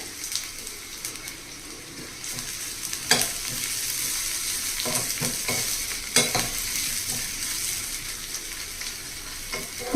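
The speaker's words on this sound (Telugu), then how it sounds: "బ్రౌన్ కలర్ వచ్చే వరకు వేగించాలండి ఇదిగోండి ఉల్లిపాయలు ఈ విధంగా వేగాలి" Sliced onions fry in a pan, a continuous hissing sizzle with occasional scraping knocks as they are stirred, steady and close for ten seconds without speech.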